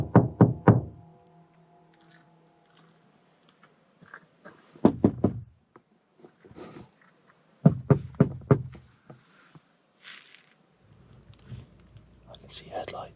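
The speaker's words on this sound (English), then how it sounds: "strange knocking on his van" Strange knocking on a van at night: clusters of sharp, hollow knocks arrive in uneven bursts with quiet gaps between them, close and fairly loud, mixed with softer thuds and faint rustling.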